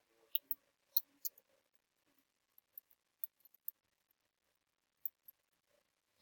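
Keys clatter on an Apple Magic Keyboard with numeric keypad, a quiet run of sharp, quick clicks in uneven bursts separated by short silences.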